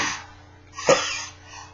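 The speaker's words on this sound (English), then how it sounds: "I still coughed" A single short cough from a person with a laryngectomy close by, with a soft breathy exhale before it and quiet breathing afterward.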